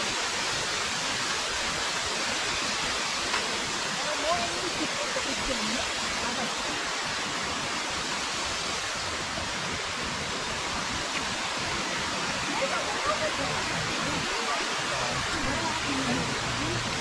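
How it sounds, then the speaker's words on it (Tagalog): Waterfall at Whatcom Falls Park with low summer water flow, a steady broadband rush of falling water filling the scene close by, with a person talking briefly over it. "Ayan, ang falls. Konti lang yung tubig ngayon guys."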